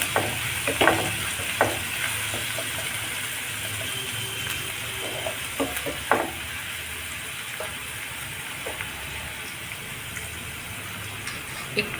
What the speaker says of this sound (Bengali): এই কড়াইতে একটা তেল দিয়েছি দিয়ে প্রথমে পেঁয়াজ কুচুম